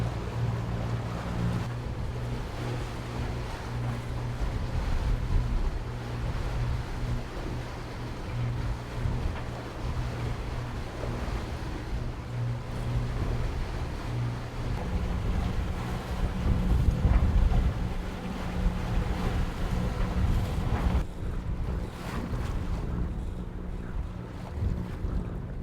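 A sailing boat motoring along at sea in the evening, a steady low engine drone with wind and wash of waves against the hull, continuous and close with no talking.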